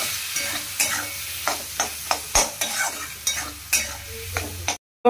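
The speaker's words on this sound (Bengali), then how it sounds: "আদা জিরে ফোড়ন দিয়ে আলুটাকে ভেজে নিয়ে" Potatoes fry in a pan with ginger, cumin and tomato paste, a low sizzle under repeated sharp scraping stirs that come close and fairly loud.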